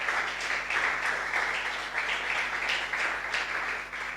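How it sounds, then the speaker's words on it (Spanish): Congregation clapping inside a church during a Spanish-language sermon, a sustained, fairly loud round of applause with rhythmic swells, heard alone without speech. "¿Cuántos le dan un aplauso al Señor?"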